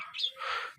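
A pet budgerigar parrot gives a quick burst of bright, close chirps on a farm with chickens about, over in less than a second.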